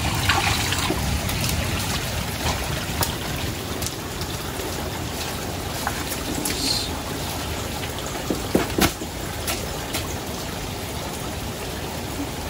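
A flooded river rushes past a riverside hut, a steady, broad churning roar of water heard close and continuously, with scattered splashes and trickles on top and no voices.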